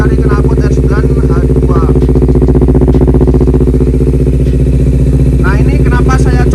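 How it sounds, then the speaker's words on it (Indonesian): A Honda CBR250RR with an R9 H2 long exhaust thrums in a deep, steady, close-up rumble with a pulsing rhythm, while someone talks over it throughout. "Saya senangnya ini dari knalpot long dari R9H2SS ini, suaranya itu ketika digeber itu bisa bulat, merdu gitu."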